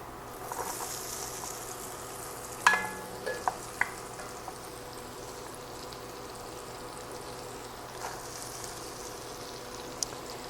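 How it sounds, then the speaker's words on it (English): Butter and oil sizzle softly in a pot for a one-pot spaghetti and ground beef meal, a faint steady frying hiss broken by a few small clinks and pops. "we're looking for the butter and the oil to start sizzling"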